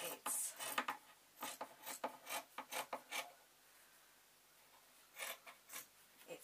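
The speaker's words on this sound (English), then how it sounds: "I need to cut the long seam" Scissors or a blade snip through a long seam of folded fabric while making a zebra draft excluder, giving a run of short rasping cuts in quick bursts, then a pause and a few more close, fairly quiet strokes.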